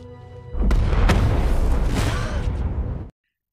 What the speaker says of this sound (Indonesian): Tapi sang ayah memutuskan untuk meledakkan dirinya bersama Antoine dengan mengaktifkan bom yang ditanam di inhaler miliknya.